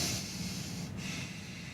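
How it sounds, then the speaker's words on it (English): Long, deep breathing through the nose, a steady close airy hiss with a slight dip near the middle, heard alone without talk. "if I breathe through my nose, I have to breathe long and deep"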